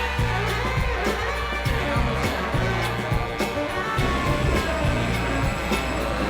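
Steady rumble of a New York subway train to the airport running along the tracks after a breakdown, with rhythmic clattering and a murmur of crowd noise in the background.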